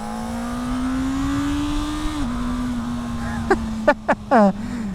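A Honda CB1000R motorcycle is ridden, its engine holding a steady, close drone that dips slightly midway, with a few short voice bursts near the end.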